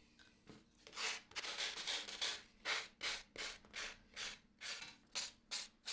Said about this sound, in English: this is just a sanding block. It's just like having a bit of sandpaper wrapped around a lump of wood really